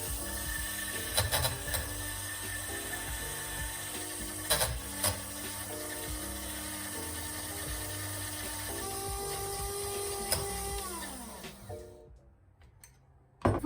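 A small electric frothing machine whips Greek frappé coffee with a steady mechanical whir and occasional rattling clicks, close and fairly loud, cutting off near the end to quiet.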